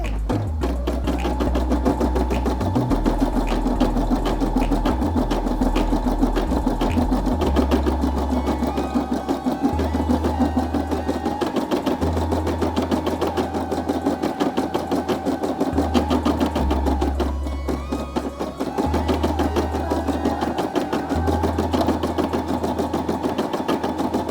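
Brother SE600 embroidery machine stitching a design, a continuous fast mechanical chatter with a steady hum that shifts pitch in stepped intervals as the needle moves, close and loud for the whole stretch, with no talk.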